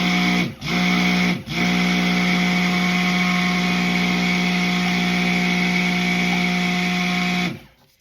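A stick blender whirs steadily through thick soap batter for a succulent soap recipe, running loud and close with two quick pauses between pulses early on, then cutting off at the end.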